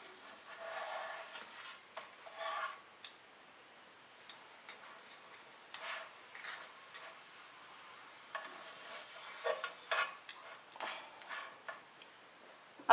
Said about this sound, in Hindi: इसमें 1 टेबलस्पून ऑयल डालेंगे और ये रैप को इसमें हल्का सा बस फ्राई करेंगे।